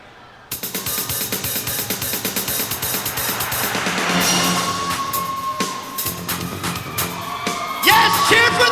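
A wrestling crowd at an NWA Southwest event whoops, yells and cheers, loud and continuous with a few sharper shouts standing out over the sustained roar.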